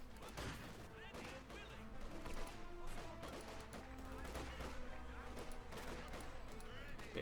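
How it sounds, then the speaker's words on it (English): Gunfire in a Company of Heroes 2 battle between Wehrmacht and Soviet forces, with dense, continuous small-arms shots and bursts crackling throughout, heard under game noise and faint voices. "Bit of shooting there."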